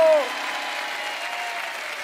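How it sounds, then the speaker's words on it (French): Studio audience of the French game show Les 12 Coups de Midi breaks into applause right after a brief vocal tone at the start, the clapping continuing steadily and moderately loud. "on peut applaudir Paul qui a la bonne réponse."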